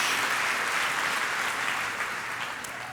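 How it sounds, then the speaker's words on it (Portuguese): A church congregation claps together in sustained applause during a worship service, a dense, even patter of many hands that fades slightly toward the end. "Pode dar uma salva de palmas ao Senhor."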